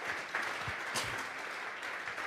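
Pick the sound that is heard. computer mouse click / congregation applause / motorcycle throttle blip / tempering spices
congregation applause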